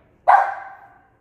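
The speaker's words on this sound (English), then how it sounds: "That's my dog." A single sharp dog bark rings out close by in a kitchen, a bright burst that fades over about a second, with no talk over it.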